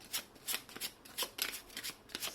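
A deck of tarot cards is shuffled in quick, soft riffling bursts, close and fairly quiet, with no voices.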